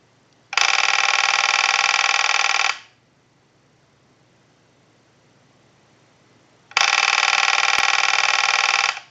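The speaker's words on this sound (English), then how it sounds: "Now what we can do is send another ring cycle to the unit" TA-954 military field telephone under repair, its electronic ringer giving two loud, steady rings about two seconds long, split by several seconds of near silence.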